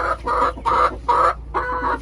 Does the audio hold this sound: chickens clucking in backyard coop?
yes